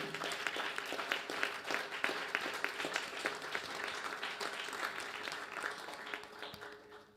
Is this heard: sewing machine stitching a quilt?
no